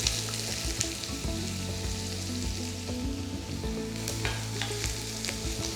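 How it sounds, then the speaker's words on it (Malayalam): Chopped large onion hits hot coconut oil in a pan, giving a steady, loud sizzle and frying crackle with occasional stirring scrapes throughout, no voices. "എണ്ണ നന്നായിട്ട് ചൂടായി. ഇതിലേക്ക് സവോള, ഒരു വലിയ സവോള ചോപ്പ് ചെയ്താണ് എടുത്തേക്കുന്നത്,"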